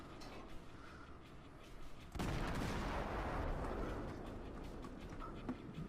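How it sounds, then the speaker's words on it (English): Cruiser main guns fire at a battleship in the naval video game World of Warships; a low rumbling ambience gives way to a heavy booming salvo that rolls on and slowly fades. "I've now opened fire on what looks like the biggest battleship they"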